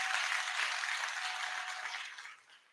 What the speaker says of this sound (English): Please give him another clap